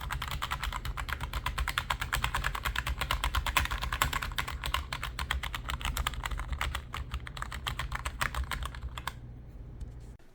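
Continuous rapid clatter of keystrokes on an NPET K10 wired RGB keyboard, steady and close for about nine seconds before stopping, over a low background hum.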